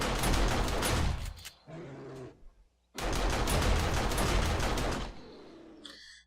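An auto turret and a shotgun turret in the zombie survival game 7 Days to Die fire at zombies in two loud, dense bursts of rapid gunfire, each cut off abruptly, separated by a brief quieter gap.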